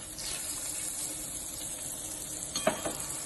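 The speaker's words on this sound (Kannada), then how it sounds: "ಇವಾಗ ಟೊಮೆಟೊ ಹಾಕ್ತಾ ಇದ್ದೀನಿ ಹುರಿಯೋಕ್ಕೆ" Tomatoes sizzle softly in a pan while bisi bele bath is being cooked, a steady faint frying hiss with a couple of brief stirring scrapes near the end.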